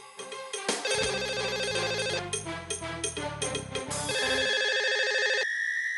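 An electronic telephone ringtone plays a bright, repeating melody, loud and close, continuing without pause and with no voices.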